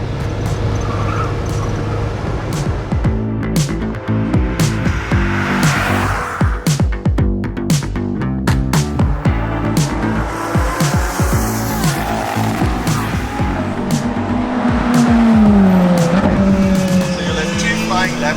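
A 55-year-old Citroen DS lapping a race track at the first Cape 1000, engine droning steadily throughout with gear changes, brief tire squeal near the end, and some talk over it inside the car.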